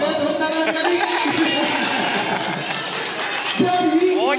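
Schoolchildren at a fire-brigade visit to their school clap together in a dense, steady burst of applause mixed with excited chatter and voices, loud and close throughout.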